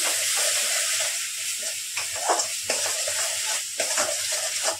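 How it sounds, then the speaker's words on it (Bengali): Spice paste with salt stirred in a pan while frying for stuffed pointed gourd, a steady sizzle under repeated scraping strokes of a spoon, close and continuous. "এবার আমি নুন দিলাম, স্বাদ অনুসার নুন দিলাম, নাড়াচাড়া করলাম।"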